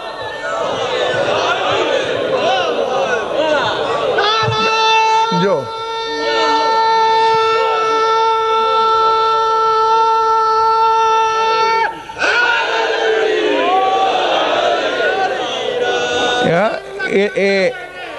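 Crowd at a Shia majlis joins in a loud, sustained religious slogan chant with drawn-out held tones, breaking off briefly and resuming, mixed with an amplified orator's voice.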